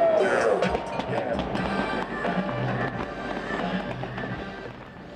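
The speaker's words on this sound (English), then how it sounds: "I love the big cat paw with the fireworks." Fireworks at a tribute show for a University of Cincinnati football team ahead of the Cotton Bowl, a dense crackling and popping barrage heard from a distance under a noisy crowd with voices talking throughout.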